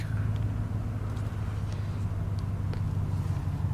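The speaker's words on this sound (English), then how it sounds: "So we'll go ahead and pop it in reverse, go straight back." A leveled Chevrolet Silverado pickup on 34-inch tires rolls straight back in reverse, its engine a steady low rumble close by with faint tire and road noise, no voices.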